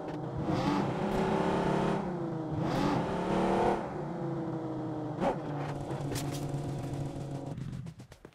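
Car engine in PUBG Mobile driving and accelerating, a fairly faint revving whine rising and falling with gear-like shifts, a few sharp clicks, then fading out near the end.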